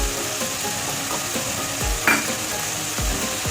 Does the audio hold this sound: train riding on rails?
no